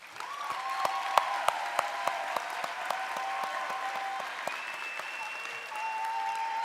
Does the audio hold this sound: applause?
yes